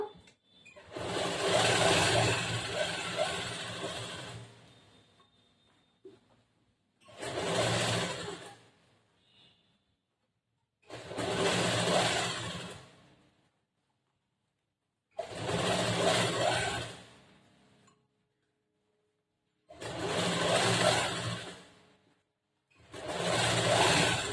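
A sewing machine stitches a blouse in short loud bursts, six separate runs of a few seconds each, separated by silent pauses, close and alone.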